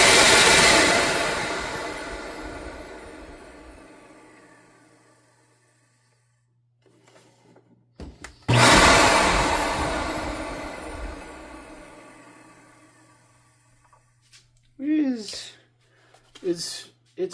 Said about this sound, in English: here's the motor just running on its own